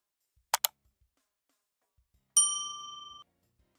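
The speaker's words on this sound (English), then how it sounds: "Hit that bell, that notification bell." A notification bell sound effect: two short clicks, then a single bright ding that rings out clearly for under a second in otherwise quiet surroundings.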